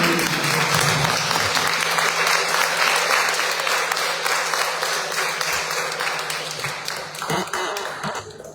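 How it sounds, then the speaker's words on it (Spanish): Sustained audience applause fills a talk on the Virgin Mary, dense steady clapping that gradually thins and fades toward the end, with no voices over it. "Un aplauso para la Virgen."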